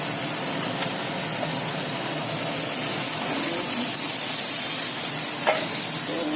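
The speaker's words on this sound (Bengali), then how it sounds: "এই যে সবজিগুলো দিয়ে ভাজবো" Ridge gourd, eggplant, pumpkin and potato fry with a hilsa fish head in hot oil, giving a steady, dense sizzle that stays even throughout, with a faint stir or scrape near the end and no talking.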